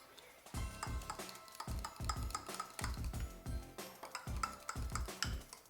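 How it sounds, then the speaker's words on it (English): A fork stirs and scrapes through a sauce of cream and other ingredients in a bowl during prime rib preparation, giving a steady run of quick clinking taps, close and fairly loud, with no voices. "I'm just mixing this together with a fork."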